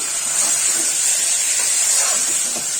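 Half a kilo of red mutton pieces frying in a pan give off a steady, loud sizzling hiss that stays even and close throughout, with no talking.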